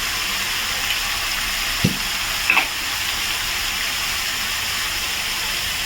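Chicken frying with powdered spices: a steady, even sizzle throughout, with a couple of soft stirring knocks near the middle.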